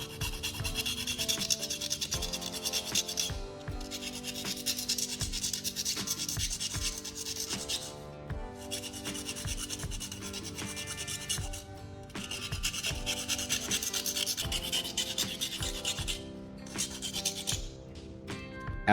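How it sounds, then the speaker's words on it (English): Cut edges on a lighter lid are filed down to strip sharp burrs, in repeated rasping strokes of several seconds each with brief pauses between them, close and fairly quiet. "I'll file down the cut edges to remove all the sharp burrs and make the opening look cleaner."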